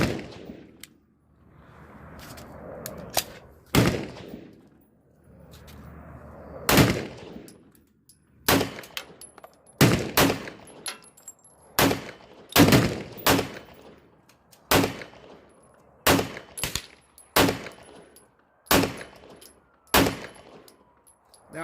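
Shots from an ATI FXH45 Moxie 1911 hybrid .45 pistol at a range, sharp loud cracks fired singly and in quick strings, some in tight bursts, with short pauses between groups and faint rumbling room between.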